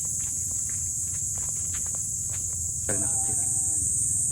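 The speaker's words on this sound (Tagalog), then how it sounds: "At ang mga huli ng kuliglig, ang ating mga naririnig." Steady high-pitched cricket chirring fills the background in a mangrove area in Camarines Norte, loud and continuous, with light footsteps and rustling crunches moving close by.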